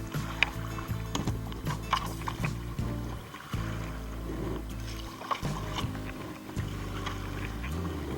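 Kayak paddle strokes on the Kiskiminetas River, a steady low churning with splashy dips and hull knocks, close by and fairly loud, no talking.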